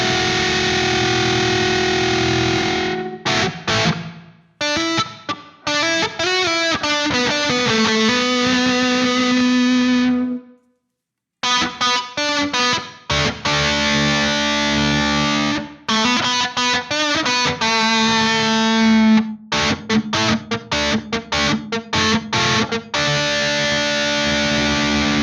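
Distorted, heavily processed guitar or synth notes through the Audio Assault RVXX digital reverb plugin, with a washy reverb tail, played in bursts with a brief silence midway.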